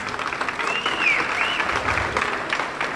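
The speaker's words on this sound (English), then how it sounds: "yes, round of applause." A round of applause from the audience at an animal rescuer award ceremony in Quebec, with steady, close clapping filling the room throughout, and a faint whistle-like tone rising above it.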